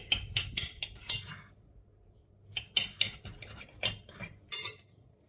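Metal cutlery clinks and scrapes against a plate while cutting into a homemade tortilla, bright close taps in two clusters separated by a short pause.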